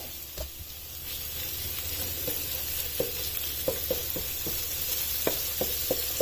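Chopped green chilli and cumin seeds fry in hot oil for chicken jalfrezi, giving a steady, hissing sizzle close by. Spaced spoon taps and stirring clicks grow more frequent toward the end, with no voices.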